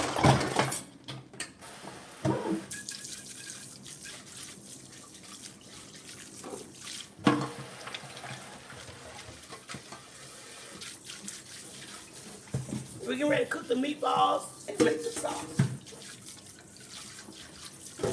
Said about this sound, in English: The water's on for the pasta.